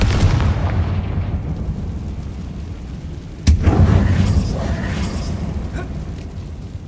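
A Confringo blasting spell in Hogwarts Legacy detonates with a sudden, loud explosive boom in the middle of a deep, rumbling game soundscape, the blast ringing out and tailing off over the next couple of seconds.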